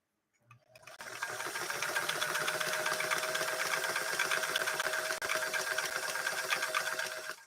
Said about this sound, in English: 2 layers of canvas with Gracie from Florida. Gracie's the machine